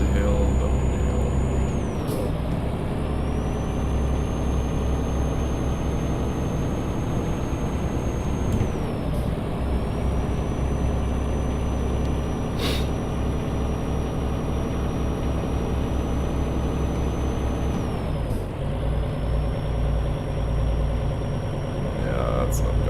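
A truck engine in Euro Truck Simulator 2 drones steadily and loudly while climbing a hill, straining because it is underpowered, with a Road Ranger gearbox that is not an 18-speed. Brief dips in the drone mark shifts.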